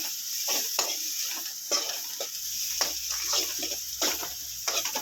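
Fennel seeds sautéing in an oil tempering in a pan, a continuous close sizzle broken by repeated spoon stirs and scrapes at an irregular rhythm, with no talking.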